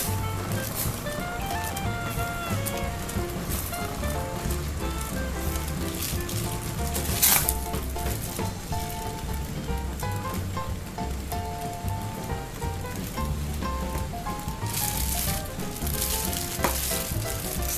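Chocolate custard sauce for a lava pudding, enriched with egg yolk, bubbling and sizzling in a pan as it boils, a steady crackling simmer with occasional louder stirring scrapes and no talking.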